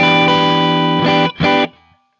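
Distorted electric guitar through an amp sim, played dry, rings a held chord and two quick stabs, then cuts off abruptly with almost no tail.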